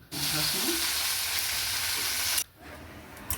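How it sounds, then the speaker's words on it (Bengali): Onion stalks and potatoes frying in a pan make a loud, steady sizzle that runs for over two seconds, then cuts off abruptly and leaves quiet. "মায়ের এখানে রান্না হচ্ছে পেঁয়াজ কলি আলু ভাজা"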